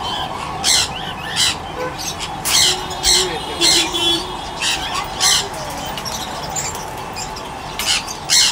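Pet conures and cockatiels in a bird house squawk repeatedly in loud, harsh bursts at an irregular rhythm over a constant background hum.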